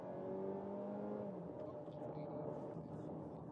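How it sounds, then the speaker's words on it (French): Engine of a VW Tiguan 1.5 TSI petrol SUV on the move, a faint steady hum heard from inside with a smooth tone that lifts slightly partway through. "on a le son pur du moteur à essence"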